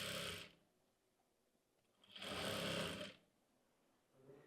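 A sewing machine stitching lace onto flapper pants, with two quick bursts of rapid mechanical stitching, the second a little longer, separated by a quiet pause and followed by the start of another run.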